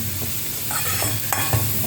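Onions sautéing in a pan for a Tamil meal, with a steady close sizzle and a few short stirring scrapes across two seconds.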